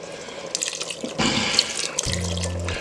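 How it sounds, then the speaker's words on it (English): Chicken broth pours steadily into a pressure cooker pot, a continuous splashing stream that grows fuller and heavier partway through, close by. "the last thing I'm going to add is my chicken broth"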